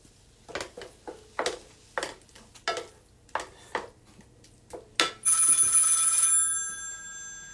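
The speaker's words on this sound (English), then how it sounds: "there's a phone call here" A run of sharp, evenly spaced clinks and taps gives way to a telephone bell ringing loudly and continuously nearby, then fading away.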